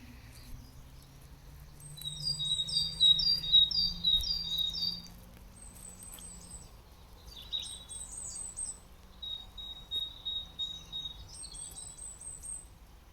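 Several birds sing in bright, repeated bursts of chirps and trills, fairly close, over a quiet low background hum.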